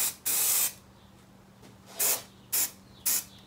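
Spray glue applied to carpet on a classic Volkswagen Beetle seat: four short, sharp hissing bursts from an aerosol can, close and loud, the first longest, separated by quiet gaps with a low hum underneath.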